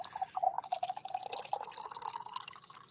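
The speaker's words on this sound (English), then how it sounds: "the pouring of the coffee sound right there actually sounded like you hit a button for a sound effect" Coffee being poured in a steady, continuous trickle that gurgles slightly as it fills, close and clear with no talking.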